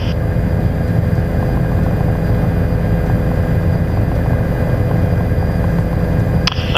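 A Bell 407GXi helicopter in flight, its engine and rotor making a steady, loud drone that holds for the whole stretch with no break.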